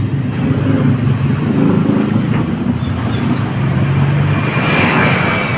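A vehicle pulls away on a street in a barangay, a loud close engine rumble and road noise that holds steady and then shifts as it moves off, with no voices.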